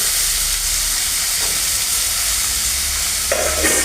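Chopped carrots and beans frying with salt in a pan over a clay stove, a loud, continuous close-up sizzle with faint stirring scrapes near the end.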